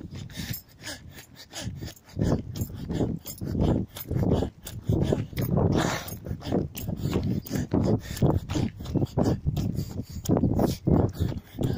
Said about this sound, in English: Dogs everywhere. I hate it.